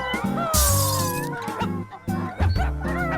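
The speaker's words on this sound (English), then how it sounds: "Then they burst through the window into the room so that the glass clattered." Window glass bursting and shattering in a loud, bright crash partway through, set among busy musical tones and what sounds like animal cries from a folk tale of animals raiding a robbers' house.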